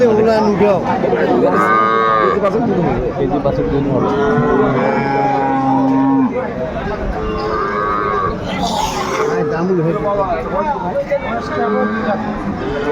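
Dairy cows and calves at the Aftabganj cattle market in Dinajpur moo repeatedly at close range, long drawn-out calls rising over the steady murmur and talk of the crowded market.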